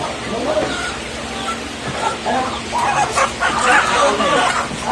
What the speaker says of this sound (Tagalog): Yan yung native chicken.